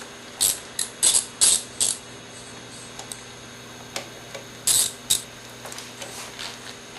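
A hand ratchet clicks in short bursts while loosening the front axle bolts on a Suzuki DR650 motorcycle, several quick close-up ratcheting runs separated by pauses, with no talking.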